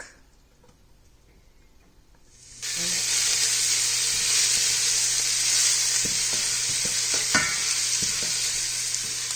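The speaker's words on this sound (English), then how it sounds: "first we'll fry up some garlic" Garlic fried in one to two tablespoons of oil at home, sizzling loudly and steadily once it hits the pan after a quiet start, with faint stirring taps over the constant hiss.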